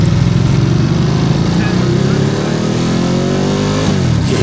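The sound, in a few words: Ducati Multistrada Enduro motorcycle revving through the gears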